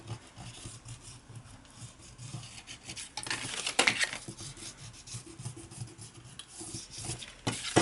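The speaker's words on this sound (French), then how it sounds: "Je vais juste venir gommer donc ce qui reste de mon trait." An eraser rubs out leftover pencil lines on a paper Halloween candy box, a close, continuous rasping scrub in short back-and-forth strokes that grows louder midway.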